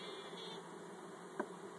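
Honeybees hum in a faint, steady drone during installation into a hive, with one brief knock partway through and no talk.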